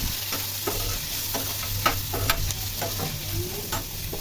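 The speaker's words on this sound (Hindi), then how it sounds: "तो सिंपल से यहाँ पे मेरी पनीर बन रही है अभी।" Paneer fries in a pan with a close, steady sizzle broken by repeated scraping and clacking strokes of stirring, with no talk over it.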